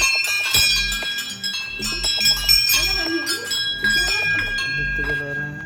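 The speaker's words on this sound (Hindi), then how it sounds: "घंटियाँ बजवाए दो बाबू।" Small handheld prayer bells ring continuously during an evening Diwali puja in a village home, bright clinking strikes layered with chatter and voices around them.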